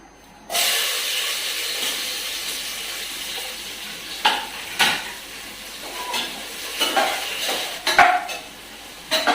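Onions for biryani hit hot oil in a pan with a sudden loud hiss, then keep sizzling while a spoon stirs them in several scraping bursts; close up, with no talking.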